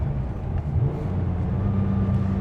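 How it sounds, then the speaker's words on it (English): Porsche 993 Turbo engine running steadily from inside the car, a low droning note with a shifting pitch band as the driver works through the gears, loud and continuous with no talking. "you can downshift nicely in this car"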